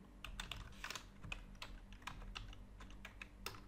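Code is typed on a computer keyboard in a quiet, rapid, uneven patter of close key clicks, with no voice.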